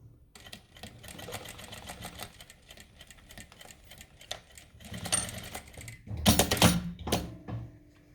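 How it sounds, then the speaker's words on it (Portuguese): Sewing machine stitching patchwork pieces for a small mini quilt, a soft rapid clatter of stitches in short bursts, close and fairly quiet, with a louder burst of handling near the end. "Agora, eu vou continuar costurando."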